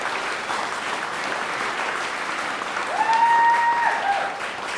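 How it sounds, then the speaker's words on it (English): Steady, loud audience applause rolls through a live event hall without any talk over it, building slightly toward the end. "I want to really give a big round of applause to Coca-Cola"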